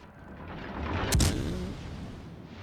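In the naval video game World of Warships: Legends, a single ship's gun shot booms once amid a steady rumbling wash of engine and sea noise, sounding moderately distant and fairly soft.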